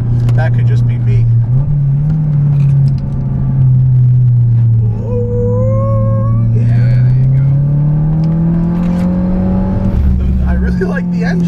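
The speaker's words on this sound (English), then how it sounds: "I like the engine too." The engine of a modified Mazdaspeed6 drones loudly from inside the car while driving, its pitch dipping and then climbing smoothly as it revs, with a steady rumble underneath and people talking over it.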